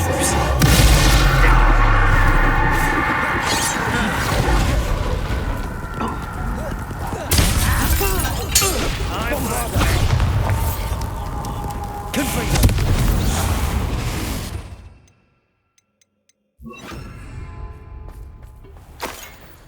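A Confringo blasting curse goes off in a Harry Potter video game: loud, rumbling booms and crackling blasts fill the first fifteen seconds, then near silence, then quieter game noise resumes, with a voice speaking over parts of it.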